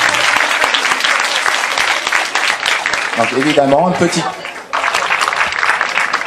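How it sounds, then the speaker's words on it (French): Sustained, loud audience applause fills a cosplay contest hall at a convention, a dense steady clatter of many hands, with a presenter briefly speaking over it midway. "Alors on applaudit bien fort, s'il vous plaît."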